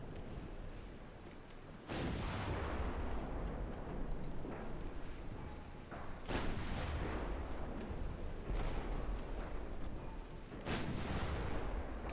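Five-inch naval guns firing in the Ultimate Admiral Dreadnoughts game, with heavy booming shots at irregular intervals over a dense, continuous roar of battle noise.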